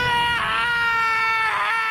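An anime character screams in rage, two drawn-out, strained howls that rise and fall with a pause between them, loud and close over a dark background.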